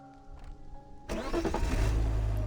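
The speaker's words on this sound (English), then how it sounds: "Sylus gets back in the car and restarts the engine." A car engine turns over and catches partway through, then runs on with a steady mid-pitched hum, close and fairly loud after a quiet start with rain-like background.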